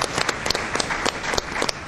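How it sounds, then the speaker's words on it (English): Audience at a panel discussion claps for the moderator, a loud, continuous round of many hands with sharp individual claps standing out throughout. "give him a round of applause for his great moderation of our discussion"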